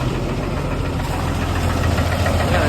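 A big tractor engine idles while warming up, a steady close, loud, knocking diesel-like chug with a low rhythmic throb and no talking.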